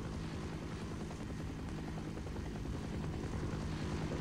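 Helicopter in the video game Half-Life, a steady low rotor thrum with engine drone that holds at an even level the whole time, fairly quiet.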